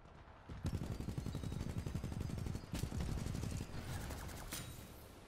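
Automatic gunfire from the Monarch titan's weapon in Titanfall 2, loud sustained bursts of rapid shots with short gaps between volleys and no voices.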